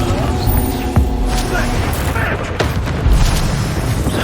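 Confringo blasting spell explosions in the Hogwarts Legacy video game, low booming blasts and thuds within a loud, continuous rumbling hum of game effects.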